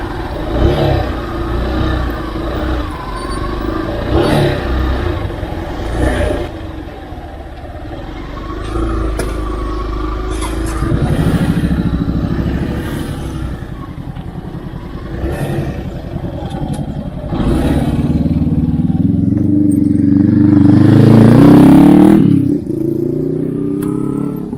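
A motorcycle ridden on a rough road toward a waterfall in Tineg, Abra, with an up-close engine note that rises and falls as it revs and accelerates, plus clattering over bumps and loud wind noise.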